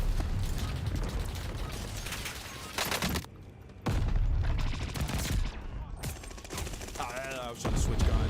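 Bursts of rapid automatic fire from a Makita AR in Call of Duty, loud and close, broken by a short quiet gap and mechanical weapon-handling clicks, with a rising whine near the end.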